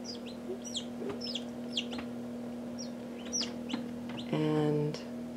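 A white Polish rooster with red silky-type feathers clucks and calls in short bursts, close by, over a steady background hum. Other birds chirp faintly, and a louder, longer call comes near the end.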